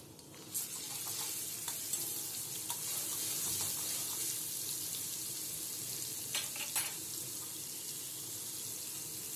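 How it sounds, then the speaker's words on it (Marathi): Garlic paste frying in hot oil in a wok, giving a steady, hissing sizzle with a few soft stirring scrapes and taps scattered throughout. "तेल गरम झाल्यानंतर त्यामध्ये आपल्याला लसूण पेस्ट ॲड करायची आहे"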